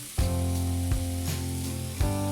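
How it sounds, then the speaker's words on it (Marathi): Fenugreek leaf bhaji sautés on a hot iron tava griddle with a loud, close, continuous sizzle, broken by three brief stirring scrapes that stir up the crackle. "ही फक्त इथे आता दोन ते तीन मिनटं परतून घ्यायची भाजी"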